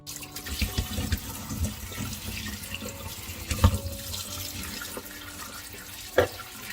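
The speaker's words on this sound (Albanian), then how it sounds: "Vazhdojmë tani dhe i lajmë dhe duhet të sigurohemi mirë që do largojmë tërë gëlqeren" Pumpkin pieces are rinsed under a running kitchen tap to wash off slaked lime, a steady stream of water splashing into a sink with occasional drips and knocks, close and unaccompanied by speech.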